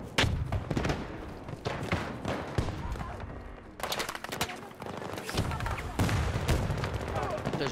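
Rapid gunfire in the video game Battlefield 2042, dense automatic bursts and heavy thumps continuing throughout, loud and close, with someone speaking briefly over the shooting.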